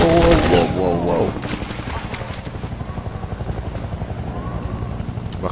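In the Half-Life 2 video game, a helicopter's rapid rotor thumping pulses steadily alongside bursts of automatic gunfire, loud and close, with a voice speaking briefly at the start.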